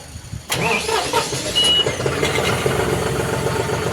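A John Deere 5310 CRDI tractor engine cranks and catches after a quiet moment, then settles into a smooth, steady idle close by.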